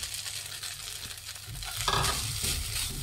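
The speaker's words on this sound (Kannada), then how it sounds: "ಈಗ ಅನ್ನ ಹಾಕ್ತಾ ಇದ್ದೀನಿ" Cooked rice tipped into a pan of frying carrot mixture, a soft sizzle with a louder surge of crackling and stirring partway through, close and without talk.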